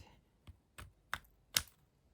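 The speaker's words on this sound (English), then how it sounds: "take the scissors and cut right" Scissors trim a piece during a paper-crafting demo, giving four or five faint, sharp snips spaced unevenly over about two seconds in an otherwise quiet room.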